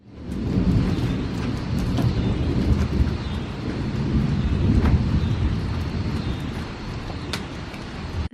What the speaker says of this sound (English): There is nothing like a good thunderstorm to just wipe out any bit of motivation you thought you had.